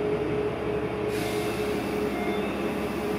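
A local train on the San'in Line rumbles steadily from inside the car, with a constant hum of wheels and motor at moderate loudness and no talking.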